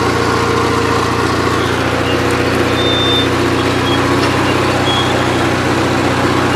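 A Gravely 8163-T garden tractor engine runs steadily under load in first gear, a continuous, loud, even drone with a low throbbing rumble that holds without a break from start to finish.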